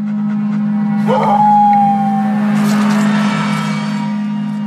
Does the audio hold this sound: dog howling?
yes